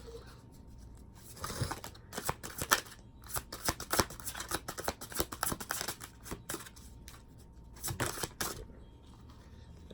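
A tarot deck is shuffled and cards are drawn at close range, giving bursts of quick crisp riffling and snapping card sounds with short quiet gaps between them, fairly soft overall.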